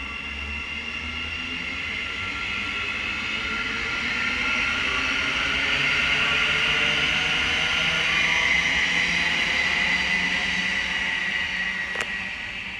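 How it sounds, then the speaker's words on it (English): A Thameslink train pulls away from Sandy station on the East Coast Main Line, a steady close rumble and broad hiss that swells in the middle and stays loud for the whole stretch, with no voices. "Now departing is the 14:16 Thameslink service from Peterborough to London King's"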